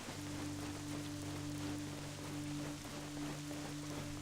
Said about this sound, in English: you can actually still hear it raining outside